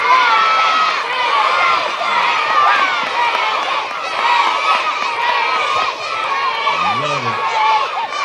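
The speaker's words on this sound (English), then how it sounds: "Come on, cheer him on." Elementary school students at a flag salute assembly cheering and shouting for a classmate, a continuous loud crowd roar of young voices throughout.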